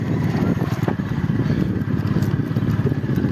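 A motorbike ridden one-handed along a rough road, its engine droning steadily and close with rattling clatter from the bumpy surface throughout.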